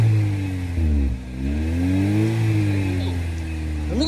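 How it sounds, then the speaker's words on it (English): A 1991 Honda CRX SiR with a B16A engine revs close by, its engine note rising and falling over a steady idle, with a voice faintly in the background. "Let me get a couple revs."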